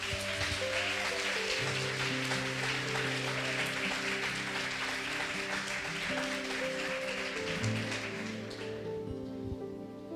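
A large church congregation applauding steadily, a dense wash of clapping that swells and holds before fading near the end.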